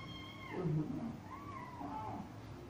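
A cat meows a couple of times, quiet and drawn out, against a low background hum.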